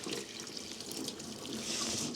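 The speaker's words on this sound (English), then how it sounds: "faucet I've ever seen." Water runs steadily from an ornate faucet into a sink in a mountain cabin kitchen, a soft continuous hiss and splash heard close and fairly quiet, with no talking.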